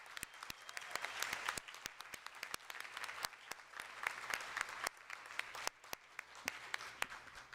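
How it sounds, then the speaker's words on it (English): Audience applause for award recipients at a school board of education meeting, steady clapping from a room of people with sharp individual claps standing out, continuing throughout at moderate distance. "Can we have another round of applause for all of our recipients tonight?"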